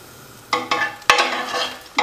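Bacon sizzling in a pan, with several sharp bursts of crackle as it is stirred, loud and close against a quiet background.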